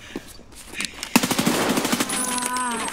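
Automatic gunfire in the Escape From Tarkov shooter game, a rapid burst of close shots in a quick rhythm after a few scattered sounds, with a voice heard briefly around it.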